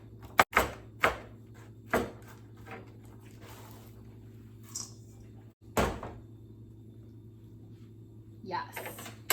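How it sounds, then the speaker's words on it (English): Kale is roughly chopped with a knife on a cutting board: a handful of sharp, irregular chops close by, with quiet pauses between them. "Just gonna run a rough chop through these."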